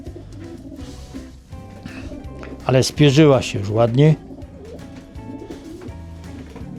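A young female racing pigeon from a second brood coos in a loft, a short run of soft, throaty rolling coos standing out briefly while someone talks over steady background noise.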